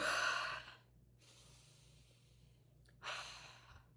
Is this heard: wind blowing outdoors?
no